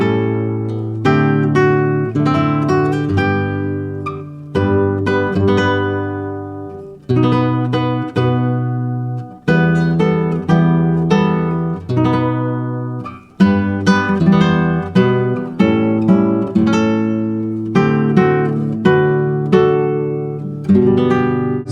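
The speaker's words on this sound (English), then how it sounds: "play block chords or kind of arpeggiate it randomly without having to think about some specific pattern" Solo fingerstyle guitar plays a tune, mixing strummed block chords with loosely arpeggiated notes, a clear, close, unaccompanied performance with steady phrasing and no talk.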